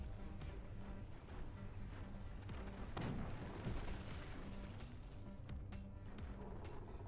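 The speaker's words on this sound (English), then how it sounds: "Standard cannons, they break things." Cannons and howitzers fire in the physics strategy game Forts during a pro league playoff match, a dense, continuous rumble of booms and crashes with one heavier blast midway, fairly quiet and low in the mix.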